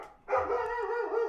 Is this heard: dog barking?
yes